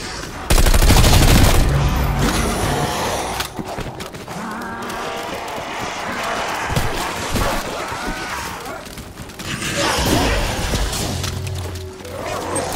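Submachine gun fire in Call of Duty Black Ops Cold War zombies on the Firebase Z map, loud, dense bursts of automatic shots with crashes and game effects mixed in, continuing for over ten seconds.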